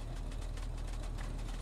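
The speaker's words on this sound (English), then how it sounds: "I don't want to keep hearing this bloody engine on" Low, steady rumble of an idling truck engine in the video game Arma Reforger, continuous and fairly quiet with no voices over it.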